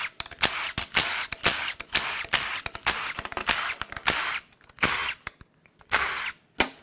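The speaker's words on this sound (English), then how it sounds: "We're just gonna start zipping all the bolts out." A power tool zipping bolts out of a Nissan Leaf electric vehicle drive motor unit during disassembly, close repeated bursts of whirring with short pauses between each bolt.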